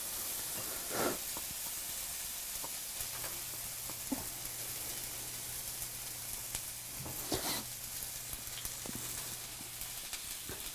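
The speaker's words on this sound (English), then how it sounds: "This is hot now, so we're gonna go ahead and dump our onion and Serrano in." Chopped onion and serrano pepper sizzle in a hot pan for lentil tacos, a steady soft hiss with a few brief stirring clatters, heard alone without talk.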